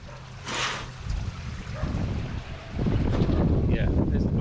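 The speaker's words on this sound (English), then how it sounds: "there's the wind" Wind buffets the microphone in rumbling gusts that grow stronger toward the end, with a voice briefly heard in the background.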